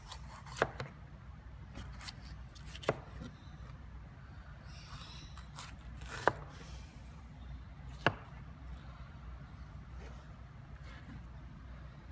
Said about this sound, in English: Okay, so we're going to mise en place our capsicum. Just slice it down like this.